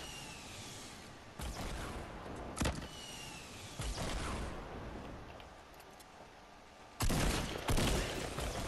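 A player's own weapon firing in a video game, sharp separate gunshots and short bursts at irregular intervals over a steady faint background, growing louder and denser near the end.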